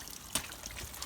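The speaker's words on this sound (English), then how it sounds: "water going up into the inlet tube, and I've got the thermostat in, so it's just going straight back down on the return tube." Faint water trickles and drips through the cooling system of a 1962 Johnson 40 hp twin outboard motor during a leak test, with a soft, steady flow and a small splash near the start.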